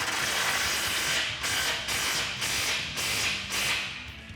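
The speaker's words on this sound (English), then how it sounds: "So we'll just use a 19mm socket to tighten up the outside." A ratchet with a 19mm socket tightens the bolts on a Jeep Wrangler JK oil and transmission skid plate, giving a steady series of rapid clicking bursts, each about half a second long, close and clear with no talk.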